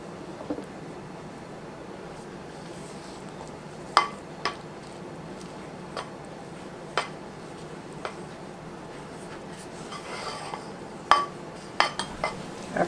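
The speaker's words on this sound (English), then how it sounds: "I'm going to add in 2 3/4 cups of powdered sugar. Mix it around just as good as I can." A spoon or utensil scrapes and knocks against a bowl while powdered sugar is worked into chocolate cake mixture, scattered faint clinks over soft, quiet stirring, with no voices.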